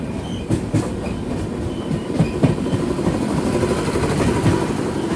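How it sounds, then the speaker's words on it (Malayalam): An express train bound for Chennai Egmore stands at a railway station platform, giving off a close, continuous rumble with irregular wheel clacks and metallic thumps; no voices. "ഇവിടെ ഒരു ട്രെയിൻ കാണുന്നില്ലേ, ഇത് 12 മണിക്ക് ചെന്നൈ എഗ്മോറിലേക്ക് പോകുന്ന എക്സ്പ്രസ് ആണ്"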